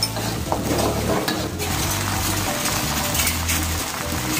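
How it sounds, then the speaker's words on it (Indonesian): Spoon stirring tomato sambal in a frying pan, a steady scraping and clinking of utensil against the pan over a soft sizzle, close and continuous with no talking. "Ini diaduk sampai tomatnya tuh hancur juga ya, agak hancur gitu ya."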